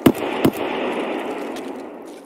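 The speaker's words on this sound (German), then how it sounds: "jetzt geht das Geballer drüben von, der anderen Seite los" Gunfire from the opposing side in a video game: two sharp shots close together at the start, then a steady wash of noisy rumble, heard alone at moderate volume.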